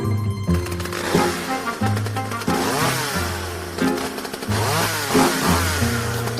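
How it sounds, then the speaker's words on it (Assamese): A scooter engine sputters and revs in repeated short bursts as a kick-start attempt fails, mixed with steady background music in a staged audio drama. "মই বোলো স্কুটাৰৰ কিকডাল মাৰি যাওঁগে আৰু।"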